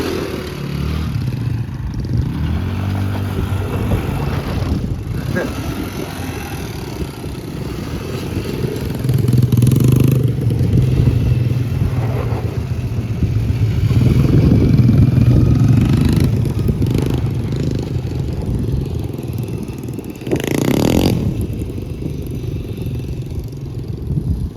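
Small 90cc four-wheeler ATV engine idling and running with a clattery, uneven putter, swelling louder in stretches and easing back, heard close with no talking.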